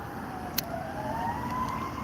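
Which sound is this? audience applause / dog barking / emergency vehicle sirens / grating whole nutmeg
emergency vehicle sirens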